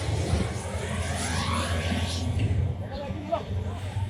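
Inside a helicopter in Nepal, flying toward Lukla airport, a loud, steady engine and rotor drone fills the cabin throughout, with muffled voices faintly beneath it.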